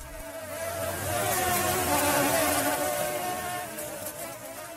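A dense, continuous insect buzz of many bees fills the clip, swelling slightly in the middle and then easing, close and steady with no voices.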